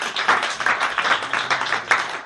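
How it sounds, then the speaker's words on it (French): An audience at a religious talk in Ziguinchor breaks into applause, a dense patter of many hands clapping at moderate volume that swells in uneven bursts for a couple of seconds. "Applaudissez pour lui."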